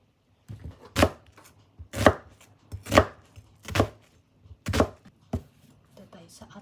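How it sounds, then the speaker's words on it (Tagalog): A knife slices through an onion with about six sharp, evenly spaced chops roughly a second apart, each a crisp close cut with quiet gaps between. "So mag-iwa muna ako ng aking mga sangkap. Dito tayo sa sibuyas Bombay."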